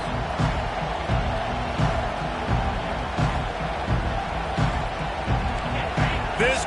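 A stadium crowd at a Miami vs Texas A&M football game roars at kickoff, a loud, sustained wall of cheering and shouting with no break across the whole stretch.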